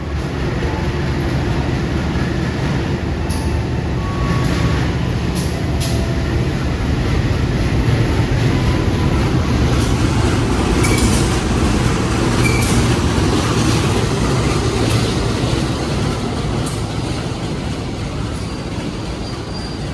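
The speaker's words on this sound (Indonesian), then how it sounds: "Pertemuan dua kereta ekonomi subsidi." An economy-class Sri Tanjung train rumbles past steadily and loudly on the Banyuwangi line, with rail clatter, metallic squeals and a continuous heavy roar throughout.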